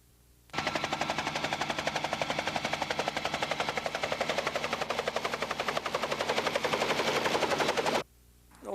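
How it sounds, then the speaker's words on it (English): Rapid, loud chopping thud of a float-equipped Bell 47 G3B1 helicopter's rotor, close by and steady for several seconds before cutting off abruptly. "this is a Bell 47 G3B1 helicopter"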